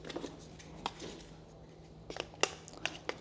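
A plastic push-fit plumbing pipe is cut, giving a few sharp crisp snips and crunches, quiet and close, spaced irregularly over a faint steady hum.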